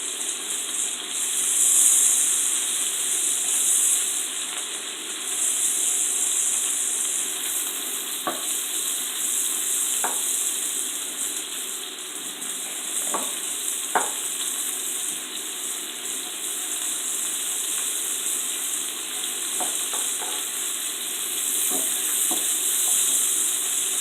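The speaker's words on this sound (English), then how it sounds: "And just saute in the vegetables." Vegetables sauteing in a pan for a sweet and sour fish gravy give a steady broad sizzle throughout, with occasional sharp clicks and scrapes of a utensil stirring, close and alone.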